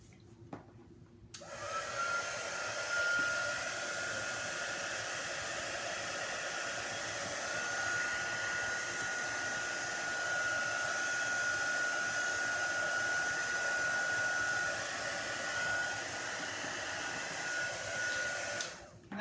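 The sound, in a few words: heat tool drying alcohol ink for embossing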